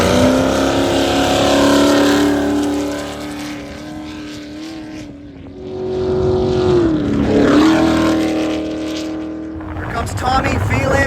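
An off-road racing truck's engine drones loudly at close range with a steady, rising and falling pitch during a long-distance desert race. An announcer talks over it.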